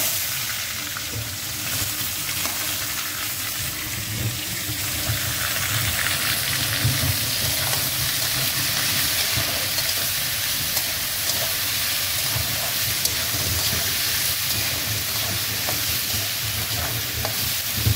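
Onions frying in a pan with noodle vegetables added: a loud, dense, steady sizzle running unbroken for the whole stretch, with no voices.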